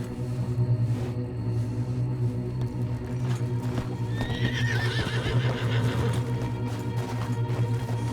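A horse in the Red Dead Redemption 2 video game whinnies loudly midway through, over steady clip-clop hooves and a low droning rumble that runs throughout.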